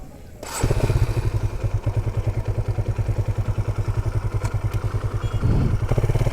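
A motorcycle engine chugs steadily at close range with a fast, even pulsing beat and occasional clatter, on the flooded Candaba–Baliuag Road.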